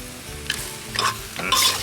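Quail stir-frying in a pan for a spicy green-peppercorn dish, a continuous close sizzle with three louder bursts of spatula scraping and tossing, nobody talking.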